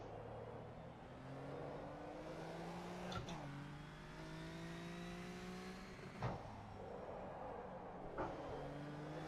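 A race car engine in a sim racing video game held in second gear, with tonal engine notes rising and dropping through several rev sweeps, punctuated by brief clicks at shift points, and no talk.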